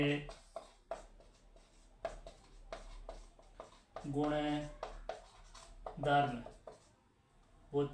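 Writing on a board during a chemistry lesson makes soft scratching strokes, heard in short bursts between and under a teacher's continuous talking.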